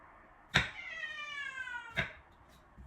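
A pet cat gives one clear, drawn-out meow lasting over a second, close by in a quiet home kitchen, with soft bumps at its start and end.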